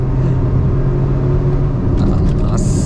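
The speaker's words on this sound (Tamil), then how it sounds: "தேர்ட் கியரில் போட்டு ஒரு புல் கொடுக்குறேன்" A Tata Altroz Racer pulls hard in third gear, its engine a loud, steady, deep rumble inside the cabin, with a voice talking over it throughout.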